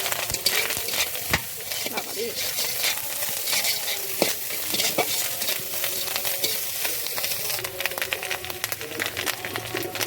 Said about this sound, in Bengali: উচ্ছেগুলো আগে ভেজে নেবো।